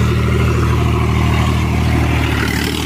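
An Eicher 551 tractor engine with its silencer removed runs loud and unbroken at about 1500 RPM, a raw, rough diesel drone with a throbbing low pulse and clattery overtones, close by with no talk.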